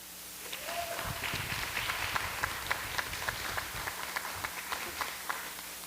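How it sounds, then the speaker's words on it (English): Scattered clapping from an audience at a school board meeting recognizing a student, faint and somewhat distant, with individual hand claps popping out in an uneven run for several seconds. "I hear your old elementary principal cheering over there"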